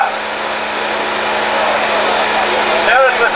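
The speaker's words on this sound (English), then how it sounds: "Notice with the vacuum, all you got to do is lay it down there, it'll pick up the water." A wet vacuum sucks up wash water runoff from cosmetic cleaning. It gives a loud, steady motor whine with a gurgling slurp near the end.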